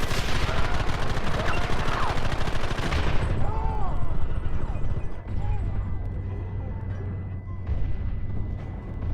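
Mounted gun fires in Red Dead Redemption, a dense rattling barrage of rapid shots that stays loud and close for the whole stretch, with a brief spoken voice in the mix.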